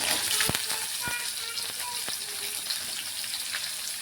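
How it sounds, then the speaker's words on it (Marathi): Chilli and potato pieces frying in hot oil in a pan, a steady close sizzle with scattered crackles and occasional sharp pops. "तर आता मिरची थोडीशी भाजली की लगेच मी बटाटा टाकून घेते."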